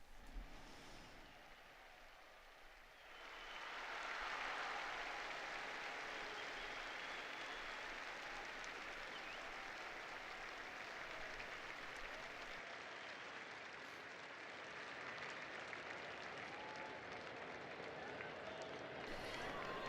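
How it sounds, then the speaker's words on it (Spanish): Broad crowd applause for the Pope's words at the Sunday Angelus, swelling after a few seconds into a dense, sustained roar of clapping from a large outdoor gathering. "El aplauso, amigos oyentes, a las palabras del Papa"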